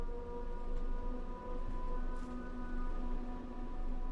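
Diesel train engines idle in Train Sim World 5, a steady low droning hum with harmonic tones that holds unchanged and fairly quiet throughout, with no voices.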